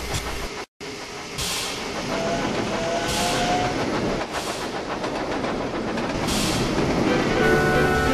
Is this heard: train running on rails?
yes